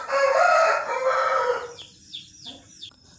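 A farm rooster crows loudly and close by, one long drawn-out call that fades into a few short, softer clucks and chirps from the same bird.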